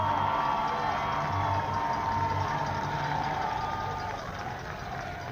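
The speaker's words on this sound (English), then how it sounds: "Beaver fans making noise" Beaver fans roar in a steady wash of crowd noise at a football game against Minot State, loud and continuous throughout with no single voice standing out.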